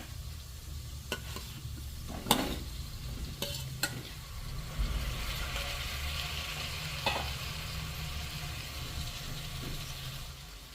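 Chopped potato and brinjal tipped into a hot oiled pan and stirred, giving a steady close sizzle with a few sharp scraping clatters of the spoon against the pan, no voices.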